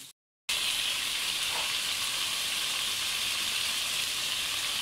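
Half a kilo of chicken fries in under half a cup of ghee for a desi-style bazaari chicken korma, a continuous loud hissing sizzle that begins after a brief silent gap and holds steady, with no voices.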